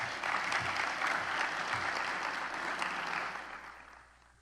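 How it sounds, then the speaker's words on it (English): Sustained applause from an audience at a scholars' graduation ceremony, a steady wash of clapping that holds for several seconds before tapering off near the end, with no voices over it. "I actually would ask that you give them a round of applause"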